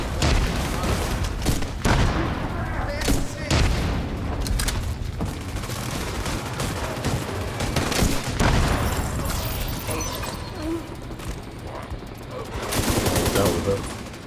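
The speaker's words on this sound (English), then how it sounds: "No, I'm gonna switch to my grenade launcher." Weapon fire in The Division 2, with a grenade launcher among the guns, comes as dense, loud bursts of shots and booms across the whole stretch. Another burst swells near the end, and a voice is heard faintly underneath.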